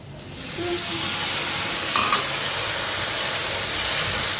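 Potatoes and spices fry in a hot pan with a steady, loud, close sizzle and hiss that runs throughout, with a faint stir or scrape midway and no speech.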